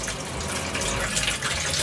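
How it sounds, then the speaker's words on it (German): Water gushing steadily from a tap in a caravan, a continuous close splashing rush with no voices. "Wasser läuft."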